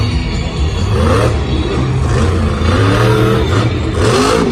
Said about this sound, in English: lining up for a sky wheelie